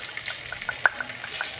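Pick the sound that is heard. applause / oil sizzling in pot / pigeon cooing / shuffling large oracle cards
oil sizzling in pot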